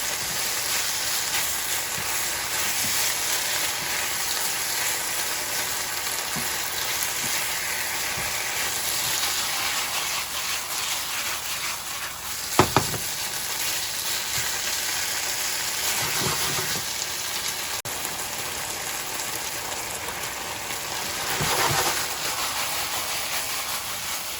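Onion sizzles steadily in a hot pan for a beef and broccoli stir-fry, a dense, continuous hiss with faint crackles and a brief clatter of a utensil midway, close and loud, with no voices.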